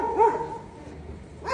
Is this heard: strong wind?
no